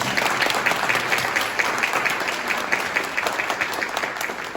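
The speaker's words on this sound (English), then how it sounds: "Please give a round of applause." A room of guests applauds at a U.S. Navy promotion ceremony to Commander, a continuous even burst of many hands clapping at close range.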